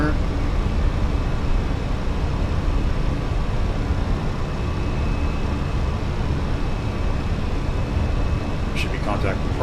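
A Fenix A320 airliner in Microsoft Flight Simulator climbs out after takeoff, its engines giving a loud, steady, unbroken roar throughout, with a few faint clicks near the end.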